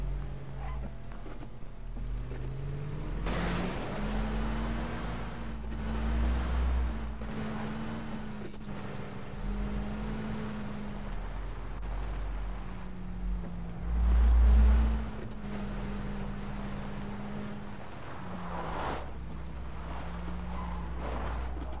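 A car engine in PUBG drones steadily as the vehicle drives along, its pitch rising and falling with light revving and a couple of low thumps over bumps, close and sustained.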